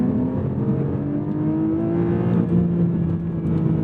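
A 2024 Lotus Emira sports car engine revs steadily upward toward its 7,800 RPM redline, a loud, continuous rising drone with layered harmonics and no talk over it.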